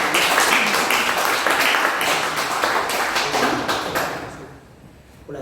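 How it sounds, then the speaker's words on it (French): An audience at a ceremony in Saint-Leu, Réunion, applauds in a dense, steady burst of clapping that carries on for about four seconds and then fades out. "On peut encore vous applaudir."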